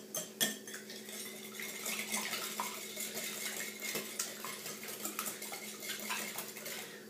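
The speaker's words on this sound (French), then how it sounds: "on fouette bien nos œufs avec l'édulcorant" Eggs whisked with sweetener in a bowl for a coconut flan: quick, steady clinking taps of utensil against the bowl, close but quiet, continuing without pause.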